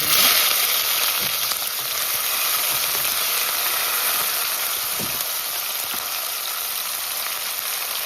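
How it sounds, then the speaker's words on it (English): Onion, tomato, garlic, scallion and pepper sizzle in hot oil for Jamaican ackee and saltfish, a loud, dense, continuous frying hiss with a few faint stirring knocks. "Once the oil hot, we're gonna add the seasons. So the seasons are onion."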